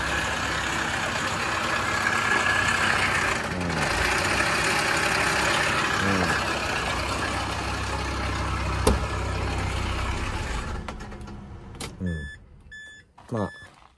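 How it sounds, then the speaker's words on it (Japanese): A Nissan K11 March car engine idles with a steady rumble that wavers unevenly, with a few clicks and electronic beeps near the end. "アイドリングが不安定なところあるかもしれないですね。"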